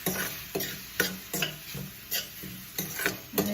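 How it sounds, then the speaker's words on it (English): Eggplant and onions being stirred in a pan with no oil, a rhythmic series of scraping strokes, about one every half second, each with a short rasping sizzle, close and clear. "I will stir it for a bit"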